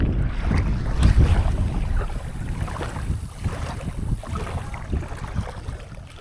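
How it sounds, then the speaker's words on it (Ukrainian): Wind rises by the Khadzhibey estuary, a steady, gusty rush of air with buffeting noise on the microphone that stays continuous and fairly loud, with no voices. "а зараз вітерець піднявся"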